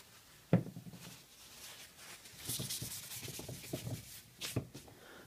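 Sandpaper rubbing over red-painted wooden crate pieces, giving an aged finish; steady close scraping strokes with a couple of sharper knocks, no talking.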